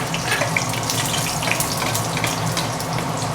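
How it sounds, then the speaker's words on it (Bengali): Dried red chilies crackle and sizzle in hot oil in a pan, a steady dense frying hiss with a few sharper pops, close and fairly loud, with no one talking. "তো আমি শুকনো লঙ্কাটা দিয়ে দিচ্ছি"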